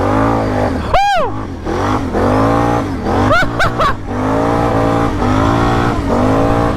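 A 2023 Can-Am XXC mud bike with a loud exhaust, driven close by, its engine note rising and falling through several sharp revs and throttle blips against a constant rumbling drone.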